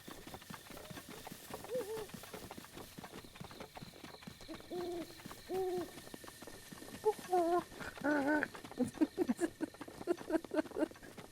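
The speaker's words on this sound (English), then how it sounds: "The owl noises from the owls that we never see in this game." Game ambience from The Legend of Zelda: Breath of the Wild with an unseen owl giving several soft, spaced hoots over faint pattering background sounds.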